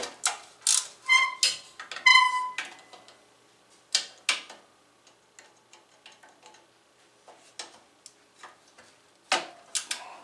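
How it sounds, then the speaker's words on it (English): A ratchet wrench clicks in short bursts while working on a wood stove, with sharp ratcheting runs early, then scattered ticks and pauses in a quiet space. "Well, I couldn't find the pliers, but I found the ratchet"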